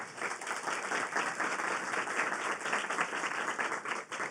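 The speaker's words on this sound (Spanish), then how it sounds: "Pido para él un aplauso, por favor." A TEDx audience at Universidad Javeriana claps steadily, a dense patter of many hands without pause, moderately loud and slightly distant.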